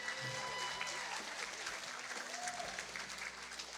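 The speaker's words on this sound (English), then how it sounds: "give her a round of applause for how beautiful she looks tonight," Wedding guests applauding at a reception, a room of clapping hands that thins out toward the end, with some voices and cheers mixed in beneath it.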